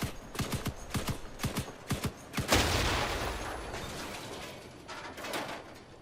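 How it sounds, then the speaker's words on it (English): Bursts of gunfire in the vehicle-combat game Crossout, a run of sharp rapid shots followed by a loud boom from an exploding fuel barrel that trails off into a long rumbling decay, with a few further shots later. "If you shoot at this one, then it will explode."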